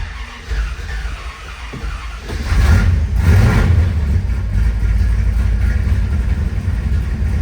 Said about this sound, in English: All right, I'm going to tap on the gas just twice and fire it up.